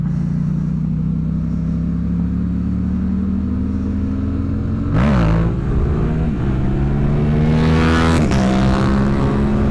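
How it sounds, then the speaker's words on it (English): A sport bike accelerates past on the road. Its engine rises from a steady low drone to a loud passing whoosh with climbing revs, then surges again through the gears a few seconds later. No voices are heard. "Dang, boy, he quick on that thing. Got the sport bike gearing."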